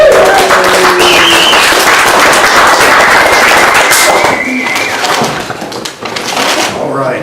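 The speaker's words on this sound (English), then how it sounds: "Would it be worth a big round of applause if this were the Ace of Spades?" An audience at a magicians' club show applauds a card trick, a dense wash of clapping that runs loud for several seconds before thinning out, with voices mixed in.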